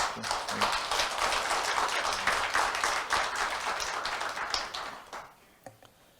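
Applause from an audience at a Korean Buddhist university alumni association inauguration ceremony, given for the lay association president, a steady wash of clapping that tapers to a few last claps.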